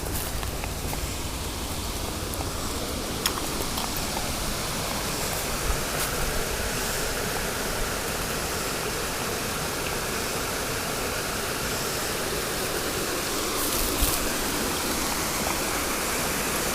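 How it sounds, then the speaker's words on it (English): A waterfall near Massacre and Register rocks pours in a steady, unbroken rush of white water, a dense hiss that holds at an even level throughout with no voices. "there's that waterfall that we saw from downstream"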